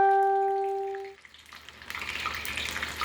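Onion rings frying in a pan that is too small, a ringing metallic tone fading out before a rising crackling sizzle takes over, close and moderately loud.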